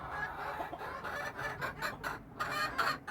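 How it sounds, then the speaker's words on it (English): A splash Silkie rooster clucks close by in a steady run of short, repeated clucks. "this is my splash rooster right here"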